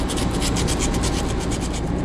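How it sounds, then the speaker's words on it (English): Steady, continuous rasping of sanding against a metal HVAC pipe, with rhythmic strokes repeating evenly throughout, close and fairly loud. "we're gonna start with just a nice sanding job in the area we want to fix"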